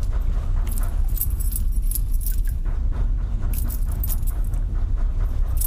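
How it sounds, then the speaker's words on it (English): Car keys jangle and clink steadily in The Cursed Tape horror video game, a continuous metallic rattle over a low rumbling game ambience, with no talking. "Take my car keys."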